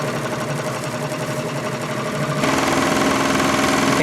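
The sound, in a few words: Singer 147-81 chainstitch sewing machine running slowly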